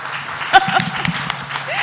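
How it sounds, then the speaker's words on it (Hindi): Brief scattered applause from a conference audience, with voices talking over the clapping throughout. "एक बार तालियां बजा दीजिए"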